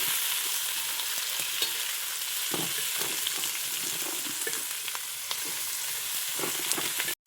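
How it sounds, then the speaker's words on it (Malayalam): Chopped onions and small shallots sizzle and crackle in a pan for chicken curry, a steady close frying hiss with occasional stirring scrapes and no voices. "നമുക്ക് നമ്മൾ അരിഞ്ഞ് വെച്ച എല്ലാ ഉള്ളിയും ചെറിയ ഉള്ളിയും ഇട്ട് കൊടുക്കാം."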